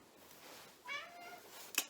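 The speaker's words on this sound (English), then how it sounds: "that was my cat opening the door" A house cat gives a short, quiet meow near the mic as it pushes a door open, followed by a brief sharp click or scrape at the end, with no talking.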